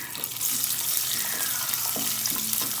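Raisins go into a hot pan for apple pumpkin halwa with cashews and almonds, giving a steady, close sizzle with faint stirring scrapes, and no talk over it.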